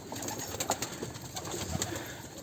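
Soft coos from a sick blue pigeon sound over a steady hiss of background noise, low and muffled, a few short calls in quick succession.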